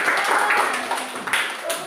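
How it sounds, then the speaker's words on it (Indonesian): Brief applause in a classroom teaching session, a group clapping together for a couple of seconds with voices mixed in. "Tepuk tangan dulu untuk kita semua"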